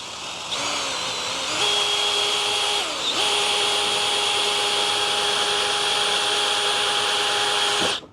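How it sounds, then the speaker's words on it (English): A power drill bores a hole with tap lubricant during a van bed-lift actuator upgrade, a loud steady high whine close up that dips briefly then holds constant before cutting off at the end. "And go ahead and drill her out."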